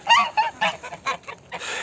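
Geese honk loudly and close, a rapid series of nasal calls overlapping one another.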